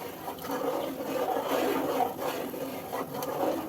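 A spoon drags through a thick adadiya flour mixture in a pan, making repeated dry rasping scrapes in a steady back-and-forth rhythm, close and moderately loud.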